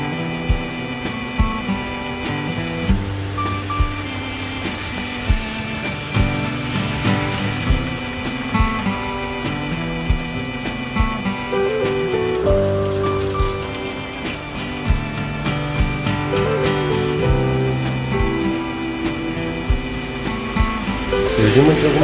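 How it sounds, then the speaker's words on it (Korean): Steady heavy rain patters on a street in Taipei, Taiwan, a constant wash of drops with occasional louder splashes, continuous throughout. "빗소리를 한번 들어보시죠."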